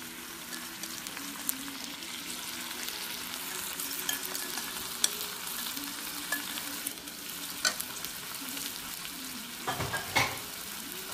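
Marinated mackerel cooks in a pot with lemongrass and turmeric, giving a soft steady sizzle and bubbling with scattered light clinks and stirring sounds, fairly quiet and without speech.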